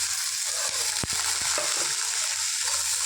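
Raw chana dal frying in a pan with curry paste, a steady hissing sizzle with a few sharp clicks and taps of stirring near the start.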